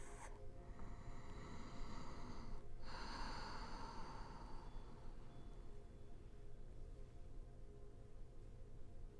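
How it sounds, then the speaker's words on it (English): Slow, deep breaths are drawn in and released during a relaxing yin yoga session, airy and close, with a soft hiss and no talking. "just taking at least 10 deep breaths here"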